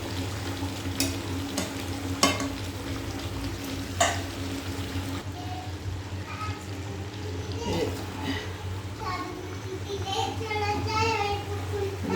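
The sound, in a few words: meat being stirred and sautéed in a pan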